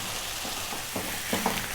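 Onion and garlic frying in a pan over medium heat, a steady low sizzle with a few soft stirring knocks toward the end, close and fairly quiet.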